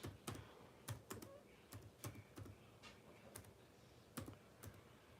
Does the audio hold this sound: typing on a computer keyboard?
yes